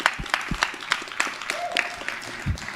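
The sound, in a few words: school assembly applause for Jim Cornelison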